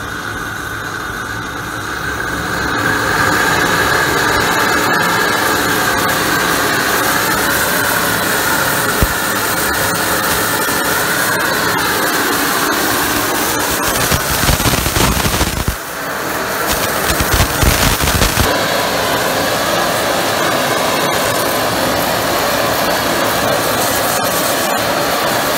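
A steam-powered industrial parts cleaner's burner roars steadily and loudly as air is slowly added, a dense jet-like rush that holds for most of the span, briefly shifts and surges near the middle, then carries on.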